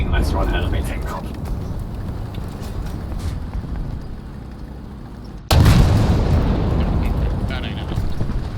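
Tank cannon fire in War Thunder from a tank such as a Crusader: a single loud, sharp boom cuts in partway through over a steady engine rumble and lingers afterward.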